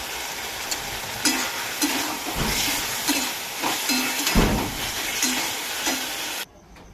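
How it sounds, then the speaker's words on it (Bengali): A pot of curry simmering and bubbling on the stove, with a steady close sizzling hiss and occasional stirring scrapes, cutting off abruptly near the end. "এবার কিছুক্ষণ এটা সিদ্ধ হোক।"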